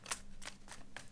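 Playing cards come off a tarot deck as quiet, close, crisp flicks and slides, four short snaps evenly spaced within about a second.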